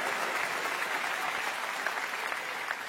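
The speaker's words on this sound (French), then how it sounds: "Là, ils applaudissent, en tout cas." Continuous audience applause fills a comedy show theatre, a broad steady roar of many hands clapping at even loudness throughout with no talk over it.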